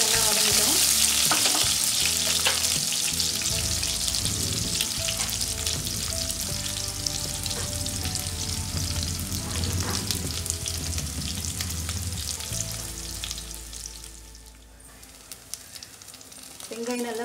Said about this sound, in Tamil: சின்ன வெங்காயம் ஒரு 4 வெங்காயம் கட் பண்ணி வச்சுருக்கேன், வறுக்கலாம்.